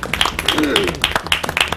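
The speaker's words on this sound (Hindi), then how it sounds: "एक बार तालियां हो जाए डॉक्टर साहब" A quick burst of applause for a doctor at an interview event, with brisk, evenly spaced claps heard under ongoing speech.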